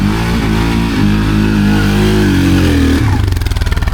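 Access and Linhai ATV quad bikes growl loudly nearby off-road, an engine holding a steady rumbling idle and then revving up into rapid pulsing throttle bursts toward the end.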